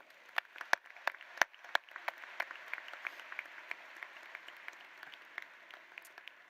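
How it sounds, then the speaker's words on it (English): Light scattered clapping from a small crowd at a high school graduation ceremony, irregular and thin, fading gradually over several seconds. "Please join me in giving them a round of applause."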